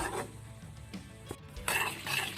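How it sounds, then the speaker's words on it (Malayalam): Mango pickle spice powder being stirred in a hot pan, a soft scraping and sizzling stir that runs throughout with a slightly louder stretch near the end. "നന്നായിട്ട് ഇളക്കി കൊടുക്കുക"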